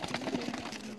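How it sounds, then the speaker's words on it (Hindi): A Ferozpuri pigeon coos once, a short soft close call lasting about a second. "ये कबूतर है दोस्तों।"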